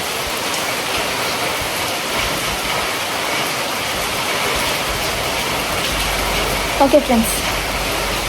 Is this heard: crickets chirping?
no